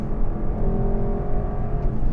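The V8 of a Lexus LC500 hums in a steady, deep drone from inside the moving car, loud and continuous, with no speech.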